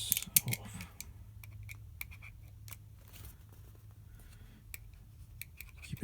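Protective wrapping is peeled off a DJI Osmo Pocket 3 gimbal camera bundle, close-up crinkly plastic rustles and short tearing scrapes in irregular bursts, with small taps, no talking.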